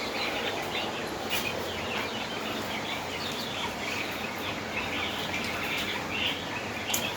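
Budgerigars in an aviary give faint, scattered chirps against a steady background hiss, with no voices.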